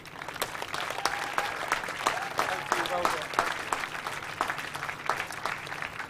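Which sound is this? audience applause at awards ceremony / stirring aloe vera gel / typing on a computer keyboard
audience applause at awards ceremony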